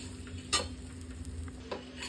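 Semolina roasting in ghee with cardamom and a bay leaf, a soft background sizzle punctuated by a few quiet scrapes and taps of a spoon stirring the pan.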